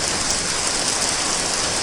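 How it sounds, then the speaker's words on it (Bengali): Heavy monsoon-style downpour in a rural Bengal village, a dense, loud, unbroken roar of rain hammering surfaces with no gaps or voices. "সুমন্তের বাড়ি পৌঁছতেই মুসলধারে বৃষ্টি শুরু হয়ে"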